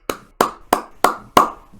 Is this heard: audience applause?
yes